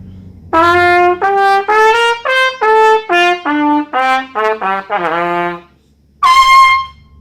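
A solo trumpet plays a string of separate sustained notes stepping downward, then pauses briefly before one last bright, loud tone.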